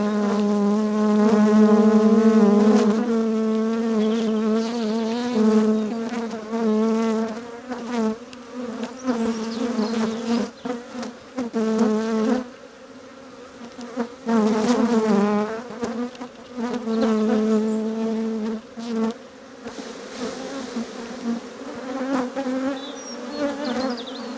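Dense, loud honeybee buzzing fills the air continuously, rising and falling in agitated waves, close by and with no voices.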